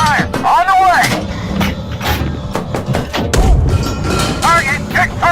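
A tank cannon fires in the PC game Gunner HEAT PC amid shouted crew commands, a single deep boom landing about midway between excited voices.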